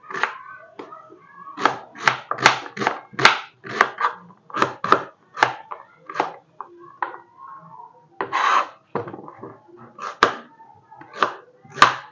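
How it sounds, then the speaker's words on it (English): A knife cuts onions on a board, producing loud, close, irregular chopping and slicing strikes in quick clusters with brief pauses. "So let's start by cutting the onions."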